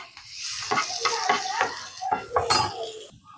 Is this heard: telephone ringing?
no